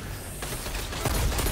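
Gunfire in a shooter video game, a dense, noisy burst of rapid shots that grows louder over a second and a half, with no talk over it.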